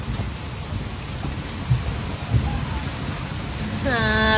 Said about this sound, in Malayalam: ഭയങ്കര മഴയും ഇടിയാണ് കേട്ടോ